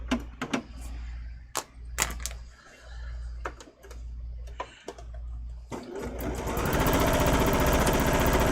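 A sewing machine stitches in a quilt section. It opens with scattered taps and short bursts, then settles into a loud, steady, fast mechanical run that continues to the end.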